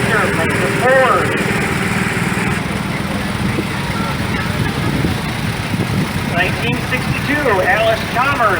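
A 1957 Case Model 310 tractor, 35 horsepower, runs at a steady low idle as it rolls past in an old engine show parade, its engine hum heard under an announcer talking loudly over a PA.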